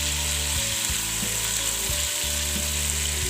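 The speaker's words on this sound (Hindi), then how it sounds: "ये मैंने 3 टेबल स्पून अदरक लहसुन का पेस्ट लिया था। हल्का सा फ्राई करने के बाद" Ginger garlic paste fries lightly in a pan, a constant close sizzle with a few low clunks and scrapes from the pan or spoon along the way.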